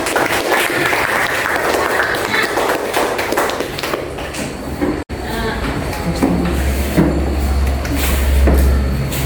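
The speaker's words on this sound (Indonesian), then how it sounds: "berikan tepuk tangan untuk" Students in a classroom applaud a presenting group, dense clapping that carries for several seconds before a cut, then gives way to bumps, thuds and low rumbling noise with some voices.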